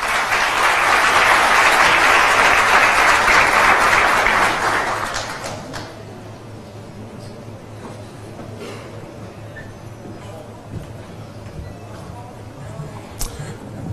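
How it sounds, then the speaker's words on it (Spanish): An audience applauds warmly for about five seconds to welcome a former Dominican Republic president at a business conference, then the clapping fades to scattered noise and quiet room sound. "a quien recibimos con un fuerte aplauso."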